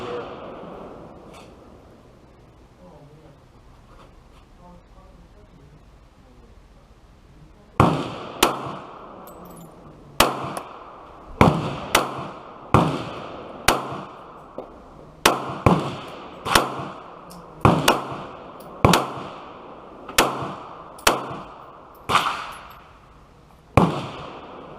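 About fifteen sharp, loud gunshots from a CZ 75 Compact 9mm pistol firing plinking ammo at an outdoor range, spaced roughly a second apart, following several seconds of quiet ambience.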